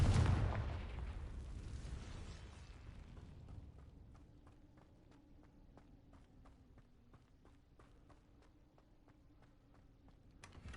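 A Confringo fire spell in Hogwarts Legacy goes off as a loud, booming blast that rumbles and fades over a couple of seconds, followed by quiet, steady footsteps.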